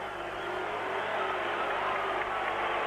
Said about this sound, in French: une partie du public applaudit, une partie du public siffle